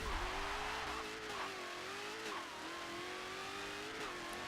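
A 2018 Dodge Demon Fast & Furious Edition drag build in Forza Motorsport 7 accelerates hard, its engine note sweeping up and shifting through gears with faint tire squeal, loud and steady with no voices.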